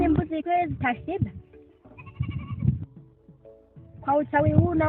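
Goats bleat in quavering, drawn-out cries, close by, with a few separate calls and quieter gaps between them.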